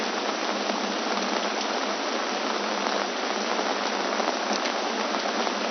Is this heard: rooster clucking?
no